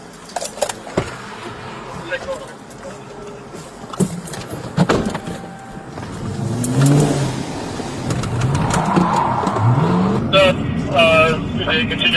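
A suspect's car accelerates away from police during a traffic stop, its engine revving up and rising in pitch under shouted commands and radio chatter.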